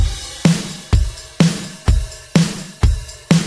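A pop country drum groove with a simple hi-hat pattern: a punchy low kick with snappy upper hits repeats in an even, steady pulse about twice per second, loud and close with no voices.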